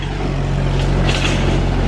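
A dirt bike engine with a stuck choke runs at a high idle, a steady, loud, rough drone held close throughout, with nobody talking.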